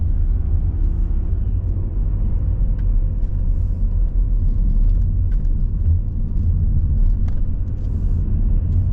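Inside a 2015 Volvo V70 2.0 D4 diesel automatic estate on the move, a steady low engine and road rumble fills the cabin, with faint ticks and knocks over the drone and no talk.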